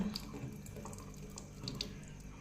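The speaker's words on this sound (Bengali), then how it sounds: "কলটা বন্ধ কর, জল নষ্ট হচ্ছে" Household tap left running, a steady hiss of water close by and low in level with faint drips and splashes, no voices over it.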